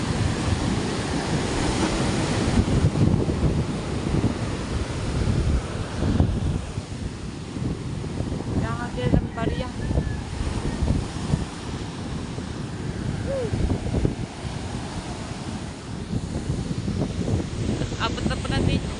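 Floodwater waves churning against houses, with strong wind buffeting the microphone in a steady, loud roar that carries on throughout without a break.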